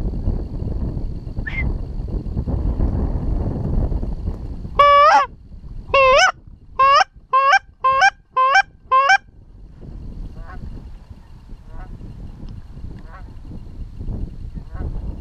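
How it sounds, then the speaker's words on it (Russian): During a September goose hunt, a goose gives a rapid series of about seven loud, close honks in a regular rhythm, with wind noise and rustling outdoors before and after. "Гусь."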